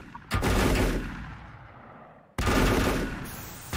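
Two heavy shotgun blasts in the co-op video game Volcanoids, each a sudden loud boom with a long decaying rumble, the second following about two seconds after the first.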